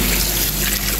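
Tap water pours into a container to soak a whole chicken, a loud, continuous, close splashing rush with no pauses.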